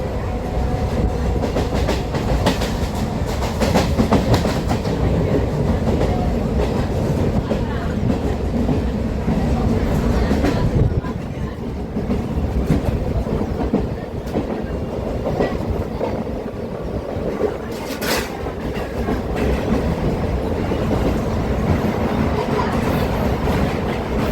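A Chennai suburban local train from Attipattu Pudhu Nagar to Chennai Beach rumbles along from inside the carriage, with loud continuous wheel roar, rhythmic clatter over rail joints and brief quieter stretches.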